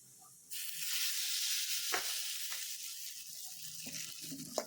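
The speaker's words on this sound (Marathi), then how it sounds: "आता याला देते तडका राईचा" Mustard seeds for a chutney tadka hit hot oil and burst into a sudden, steady sizzle that holds throughout, with a few sharp pops and crackles breaking through.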